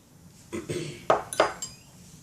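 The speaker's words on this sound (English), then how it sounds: "I'm going to try to mix this all up together here." Chickpea flour cookie dough for vegan chocolate chip and walnut cookies is mixed in a bowl, with a few scraping, clinking knocks of a utensil against the bowl, close and fairly loud, spaced irregularly.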